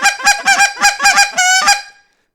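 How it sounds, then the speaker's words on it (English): A goose call played without hands gives a loud run of sharp, rhythmic honks and clucks, about eight bursts in quick succession with one longer drawn note near the end, then silence. "All these sounds are every sound on a goose call you can do without hands."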